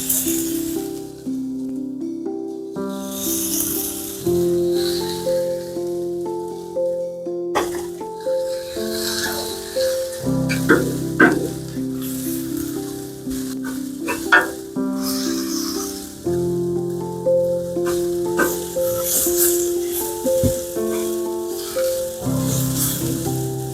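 Burgers topped with American cheese frying in a pan alongside vegetables, giving a steady close sizzle with occasional clinks, stirring and squishy bursts throughout, with no talking.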